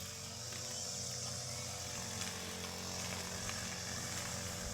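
A small grass cutter engine drones steadily and loudly throughout, a continuous buzzing whine running close by as it clears weeds, with no talking.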